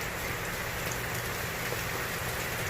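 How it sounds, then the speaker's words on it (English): Heavy rain pouring down steadily on a 2020 Toyota, a dense, even hiss of drops hitting surfaces, close and constant throughout. "It is raining its freaking ass off still."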